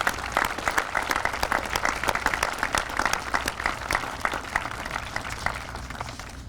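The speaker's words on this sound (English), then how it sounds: "Let's give everybody a round of applause for being here." Steady crowd applause fills a Veterans Day ceremony in Indianapolis, dense clapping sustained at an even level throughout with no pause.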